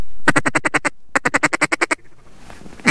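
Mallard ducks quack loudly in two rapid bursts of evenly spaced calls, close by in a field, followed by quieter rustling.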